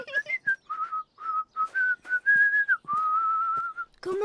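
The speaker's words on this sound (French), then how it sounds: "Vous faites de drôles de sifflements avec vos boîtes de jus tous les trois." Whistling through juice boxes in a children's cartoon, a series of short tonal whistles followed by a longer steady one, close and clear, with speech beginning at the end.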